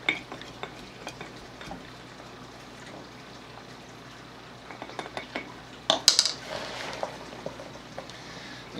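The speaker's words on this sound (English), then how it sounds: "Take my wooden spoon and try to pack it down in there." A wooden spoon packs shredded cabbage salad mix down into a jar, giving faint soft scrapes and taps that end in a louder clatter and rustle near the close.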